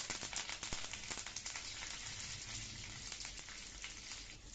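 Curry leaves and fennel seeds frying in hot oil crackle and sizzle steadily, a dense spattering hiss with scattered sharp pops, close and fairly quiet throughout.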